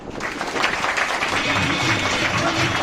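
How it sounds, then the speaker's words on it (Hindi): Steady, dense applause from a crowd, continuous and fairly loud for a few seconds with no voices on top. "तालियां बाबूजी के लिए।"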